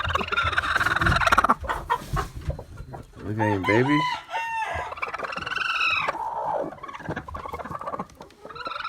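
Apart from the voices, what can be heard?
chickens clucking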